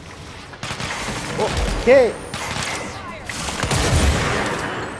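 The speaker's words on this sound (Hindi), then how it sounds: "गोलियां चल रही है." Gunfire bursts from the video game Control, a rattling volley of shots mixed into busy game effects, with someone talking over the action.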